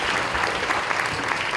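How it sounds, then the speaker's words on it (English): Audience applause, a dense, steady wash of clapping from a crowd at a panel event, close and even throughout the brief moment. "Let's clap her up."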